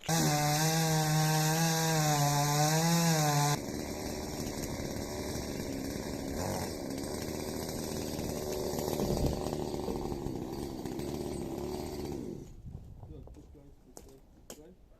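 A chainsaw cuts tree branches beside power lines, revving loud and close at the start and then dropping to a rough idle. People talk over the engine, and a few sharp knocks follow as it fades near the end.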